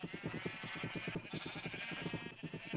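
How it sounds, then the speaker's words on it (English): Sheep bleating in Minecraft, a dense overlapping chorus of many flock members bleating continuously and loudly throughout, close by with no pauses. "Breeding all these sheep"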